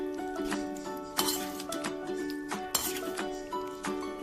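Chicken ghee roast masala being stirred in a metal pan, a spoon scraping and clinking against the pan in irregular strokes with a few sharper knocks, close-up and without voices.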